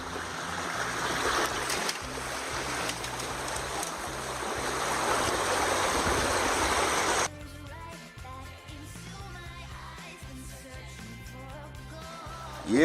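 Creek water rushing steadily and softly, a continuous wash that gives way midway to a quieter trickle with faint clinking and movement nearby.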